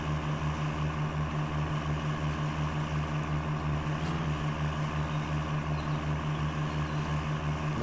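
A 1993 Dodge Ram with a Cummins engine climbs a hill in SnowRunner, a steady low diesel drone with a constant hum running through it and no talking.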